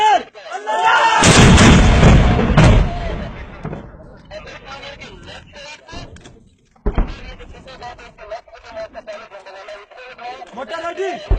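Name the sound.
mortar firing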